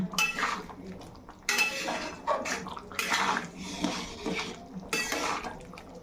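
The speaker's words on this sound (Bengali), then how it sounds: "দিয়ে আমি সবগুলো খুব ভালো করে মিশিয়ে নিচ্ছি" A spoon scrapes and clinks against a pan in repeated bursts, mixing chana masala with a spoonful of garam masala and kasuri methi, loud and close with no talking.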